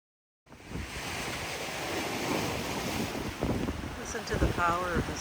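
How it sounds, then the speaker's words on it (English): Powerful ocean surf pounds the coast near Westport on the Washington shore, a loud continuous roar of breaking waves blended with gusty wind buffeting the microphone, with a brief voice near the end. "Listen to the power of this ocean."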